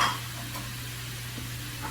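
Beef sizzling steadily in a hot pan for fajitas, onions just added, a soft continuous frying hiss with faint stirring under a constant low hum.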